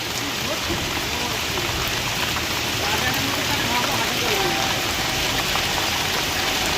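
Heavy rain pours down during a flood, a dense, constant roar of water hitting surfaces that stays loud and even throughout, with no talk over it.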